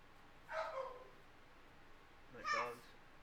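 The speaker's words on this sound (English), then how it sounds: "My dogs." Dogs bark twice, each a short burst about two seconds apart, at moderate loudness over a quiet background.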